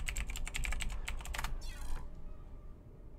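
Rapid, close keystrokes on a computer keyboard as a password is typed, a quick burst of clicks for about a second and a half that stops abruptly into quiet room tone.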